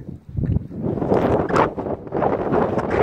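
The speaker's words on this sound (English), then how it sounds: "the wind is definitely picking up right after I said that" Wind picks up outdoors during a walk, rumbling and gusting in uneven buffets against the microphone throughout.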